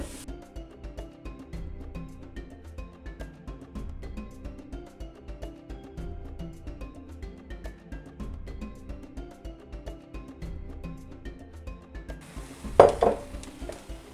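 Vegetables cook in a frying pan over medium-low heat before vegan omelette batter is poured in, a soft steady sizzle and stirring with a sudden clatter near the end, close and without talk.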